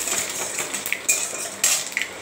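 Spices tempering in hot oil in a pan while cooking a Bengali dish, heard as close metallic scrapes and clinks of a utensil against the pan, with a faint sizzle underneath, no talking.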